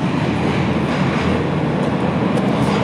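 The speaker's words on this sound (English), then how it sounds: "There's another train." A busy train passes close by in the Podskalí district of Prague, a loud, steady rumble of rolling wagons lasting the whole stretch with no voices.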